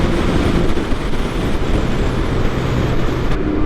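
A 2023 Can-Am Ryker three-wheeler runs at full throttle, its engine roar blending with heavy wind rush in a loud, steady, close-up rumble.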